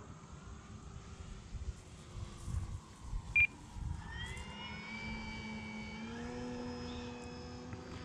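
Arrows Husky RC plane electric motor whining overhead in flight after throttling back, a steady moderate tone gliding with faint harmonics, with a brief sharp beep midway.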